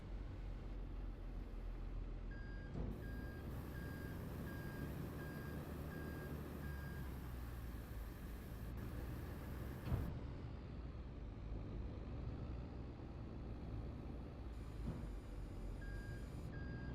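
A truck in the Farming Simulator 25 video game, working on an olive grove, lets out intermittent steady reversing beeps over a low, continuous engine rumble. The beeps sound faint and come in separate stretches, with no speech.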